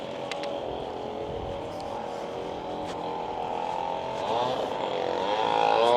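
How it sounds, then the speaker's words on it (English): A leaf blower clearing fallen leaves along a busy resort strip in Protaras, Cyprus, gives a steady droning whine that holds throughout and swells louder toward the end. "Leaf blower must be blowing all the fallen leaves and that lot."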